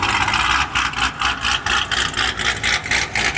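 A supercharged Corvette with a ProCharger runs at a car show, its engine pulsing in quick rhythmic surges of rumble and whine, loud and near, without letup.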